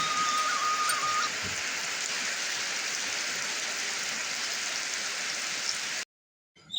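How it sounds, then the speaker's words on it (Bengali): Steady rain falls outdoors as a dense, even hiss that carries through most of the stretch, with a faint whistle early on before the sound cuts out abruptly near the end. "এদিকে কিন্তু বৃষ্টি পড়া শুরু হয়ে গেছে।"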